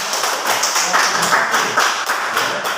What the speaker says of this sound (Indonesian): mari kita memberikan aplaus kepada kelompok A ya